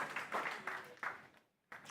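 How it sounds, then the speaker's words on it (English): A church congregation applauding at a Mother's Day service, bursts of clapping in several waves that fade out, then a brief fresh burst of applause at the end. "give another big round of applause"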